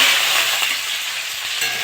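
Onion and green chilli frying in hot mustard oil over cumin, a steady loud sizzle with bright crackle that stays dense and even throughout, no voices.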